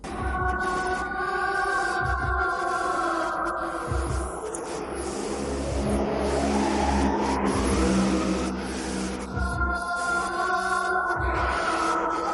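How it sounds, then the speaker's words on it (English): A train rumbles past in an animated story set on the Sodor railway, a low rolling roar swelling and fading over several seconds beneath steady tonal sounds. "Did I just hear a train go by?"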